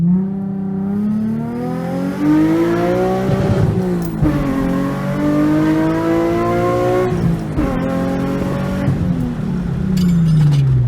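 A Nissan 350Z running on E85 fuel and tuned to about 305 wheel horsepower accelerates hard from inside the car. The engine note climbs steadily through the gears, with brief dips at each shift and a loud, sustained rising whine.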